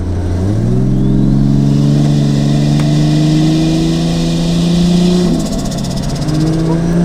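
A Toyota Soarer with a home-built single-turbo 1JZ engine and built automatic gearbox pulls hard on a street. Loud rising engine drone climbs steadily, dips at a gear change, then climbs again, close and alone.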